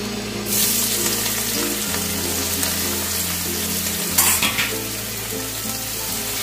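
Steady, loud sizzling of bitter gourd frying in hot oil, with a brief clatter of stirring partway through and no one speaking.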